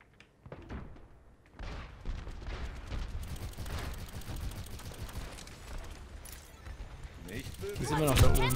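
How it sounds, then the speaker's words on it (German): Gunfire in the video game Overwatch crackles in bursts and thuds, with a louder volley near the end, while people talk excitedly over the action. "Da haben wir dann nochmal 2, 3 Schüsse reingegeben."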